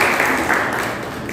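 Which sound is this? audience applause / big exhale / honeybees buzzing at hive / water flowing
audience applause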